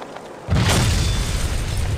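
A grenade detonates in the 2001 Star Wars: Obi-Wan video game, a single loud, close boom that erupts suddenly after near-silence and rumbles on without voices.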